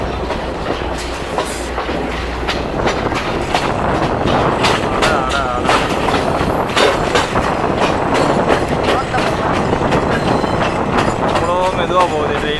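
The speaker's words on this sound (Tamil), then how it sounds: "மெதுவாக போகுது ட்ரெயின்." A passenger train rolls slowly along the Badulla to Colombo line in Sri Lanka, its wheels clattering in a steady clickety-clack with squeals and rumble throughout, while people chat nearby.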